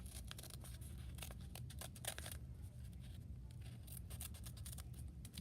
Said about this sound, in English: I'm also going to cut out this corner here like this